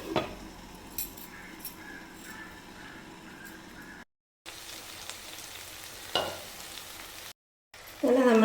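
Chicken roast cooking covered in a pan, a faint, steady low sizzle and bubbling that runs quietly on with a few soft clinks and brief gaps of silence.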